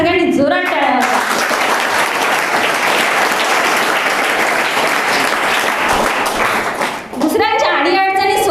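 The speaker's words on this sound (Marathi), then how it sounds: "त्यांच्यासाठी त्या सगळ्यांनी जोरात टाळ्या वाजवा" Loud, dense audience applause fills a hall during an anniversary event at a career academy. It swells for several seconds and is framed by a speaker's voice just before and after.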